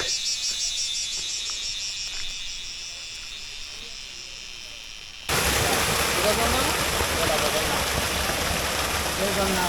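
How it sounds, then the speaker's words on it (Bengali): Crickets chirp in a fast, steady high trill along a forest trail near Chingri waterfall in Bandarban. Midway, the loud rush of falling water takes over and buries the chirping. "তো জিজি পোকার ডাক"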